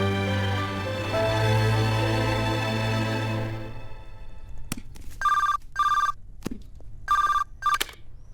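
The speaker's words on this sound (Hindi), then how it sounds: "मिस्टर राज मल्होत्रा का फोन है।" Telephone ringing on an office line in a film scene, with several short repeated bursts of trilling bell tones separated by pauses, following a sustained musical passage.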